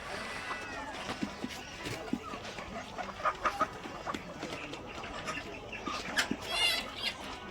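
Free-range chickens forage in a cashew grove, clucking and calling in scattered bursts against a busy outdoor background, while a person talks over them.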